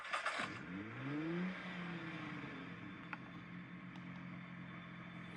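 A car engine in the video game DR!FT cranks with a brief whirr, then catches and revs upward before settling into a steady idle, with a few faint clicks afterward.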